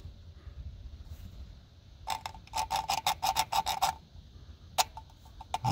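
Worn points file rasping across a tractor's ignition points: a quick series of about ten sharp scraping strokes in a steady rhythm, followed after a pause by a few more strokes, close and fairly quiet.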